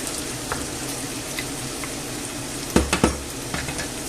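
Pot of water bubbling steadily on a stove for a breakfast omelette and baked beans, a constant hissing boil with a few brief clinks and stirring knocks partway through, no voices.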